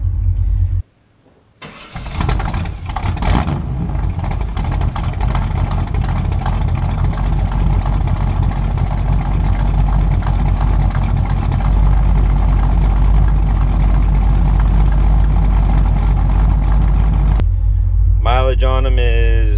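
A 1979 Chevrolet C10 short-bed squarebody truck with an electric choke cranks and fires, then settles into a loud, steady close idle with a low rumbling hum, while people talk over it.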